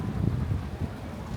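Outdoor wind at a scenic viewpoint on a hot day in Cebu, a steady low roaring rumble buffeting the microphone throughout, with no speech.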